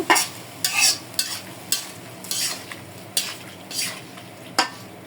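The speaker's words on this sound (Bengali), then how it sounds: "গোলমরিচ বাটা তেজপাতা স্বাদ মতো লবণ এভাবে মিশিয়ে দেব" Beef tripe being stirred with pepper paste, bay leaves and salt in a cooking pot: a rapid series of about eight scraping stir strokes over a soft sizzle, close and fairly loud, with no voices.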